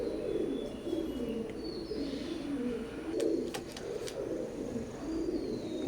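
Oman bloodline teddy pigeons keep up a dense, continuous cooing close by, a low rolling murmur with a few faint chirps and brief clicks over it.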